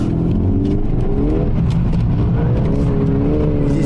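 A VW Golf R Variant, a 333-horsepower estate on winter tyres, spins a drift donut on a rain-wet surface, its engine droning loud and steady with rising and falling revs and a constant hiss of tyres on water.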